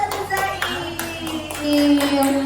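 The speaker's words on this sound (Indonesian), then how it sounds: "tepuk tangan" A few people clap in an Indonesian teachers' session on positive school culture, giving a handful of distinct, fairly close claps in an uneven rhythm over a steady background hum.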